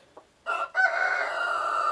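A hen near her nest of eggs gives a short cluck, then a sustained, fairly loud throaty call that carries on steadily, with no talk.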